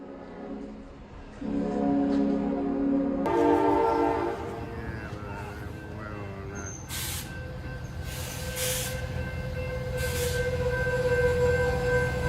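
An Amtrak train blares its horn in long tones, then a loud crash against a truck stuck on the tracks follows, with sprays of debris, rumbling rail noise and a siren-like wail.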